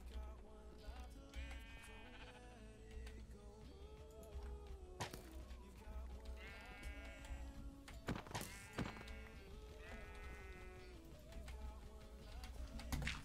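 Sheep in the video game Minecraft bleat several times, short wavering calls that recur over a busy background of game effects, thuds and clicks, moderately loud and without speech.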